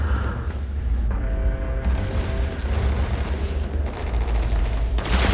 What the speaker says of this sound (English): Avoiding his gunshots